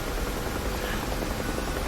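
Steady rotor and turbine noise from a UH-1H Huey helicopter in the DCS flight simulator, a dense continuous drone filling the short stretch with no talk over it.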